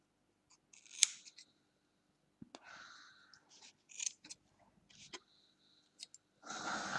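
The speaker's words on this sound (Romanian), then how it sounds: "voi intra încet cu foarfecul și le voi tăia" Scissors snipping loose threads on a handmade mimosa craft piece, a few sharp, quiet cuts spaced out with pauses between them in a hushed room.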